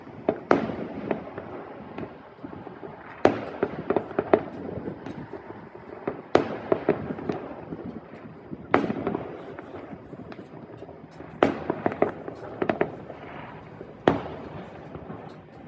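Repeated Canada Day firework bursts boom at irregular intervals at night, some sharp and loud, others more distant, with crackling and faint background chatter between blasts.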